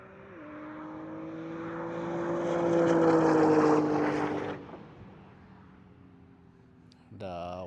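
Porsche Turbo S cars launch at a private track day drag race, engines rising to a loud roar with shifting pitch then fading into the distance, followed by a faint idle and a brief rev.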